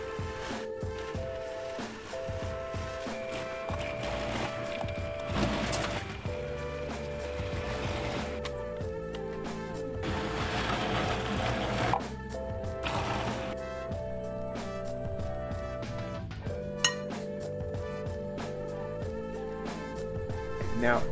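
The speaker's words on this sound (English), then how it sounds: "to make the chopping process go by a little bit faster and easier, we are using our awesome food processor" A food processor grinds continuously through chopped salad vegetables, its motor whirring and rattling steadily at moderate volume for about twenty seconds, with occasional louder clunks.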